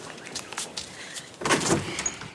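Indoor door opening, a muffled handling clunk and brief rattle standing out from quiet room tone with faint background noise.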